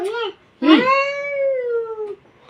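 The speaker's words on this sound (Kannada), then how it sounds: "ಬೆಕ್ಕ ಹೆಂಗ್ ಉದ್ರತ್ ಕೇಳ" A cat meows loudly twice, a short call followed by a long, drawn-out wail, close up with a little background noise.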